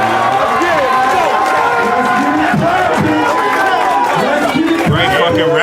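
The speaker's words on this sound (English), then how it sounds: "Crowd's hella alive too." A lively crowd at a rap battle cheers, shouts and chatters loudly and continuously, with overlapping voices forming a dense roar throughout.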